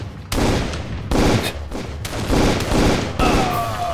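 Gunfire in the shooter game Darkest of Days: loud, close bursts of rapid shots come in several waves with brief gaps between them, and no one talks.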